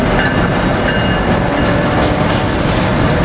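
Amtrak passenger cars roll past close by, a loud, steady broadband rumble of wheels on rails with faint rhythmic clatter and no voices.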